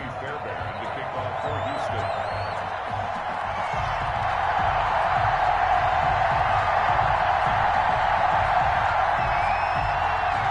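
NFL stadium crowd in a video game before a Houston Texans versus Indianapolis Colts matchup, a steady, swelling roar that grows louder, with a voice talking over it.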